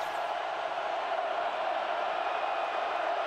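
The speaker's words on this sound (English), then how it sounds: "Listen to the crowd. They are involved." A college football stadium crowd during USC at Oregon in 2007 roars as a continuous broad wash of cheering, loud and sustained for the whole moment.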